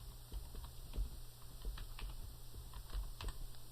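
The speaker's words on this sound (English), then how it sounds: "so I'm going to type that in." Computer keyboard typing, entering a search term in accounting software: quiet, uneven keystrokes tapping steadily at close range against a low background hum, with no one talking.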